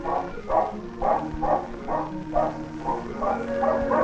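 Sled or herding dogs bark repeatedly while rounding up musk oxen on Arctic ice, a rhythmic series of yaps about every half second at moderate distance over a steady background hum.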